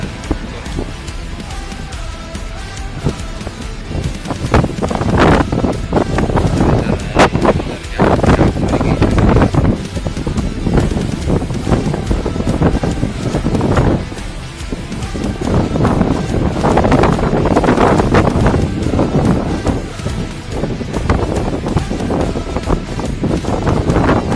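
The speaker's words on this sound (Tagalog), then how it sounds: "Malakas yung hangin." Strong wind buffets the microphone in heavy, roaring gusts on a ship deck, with a low rumble of engine and water underneath throughout.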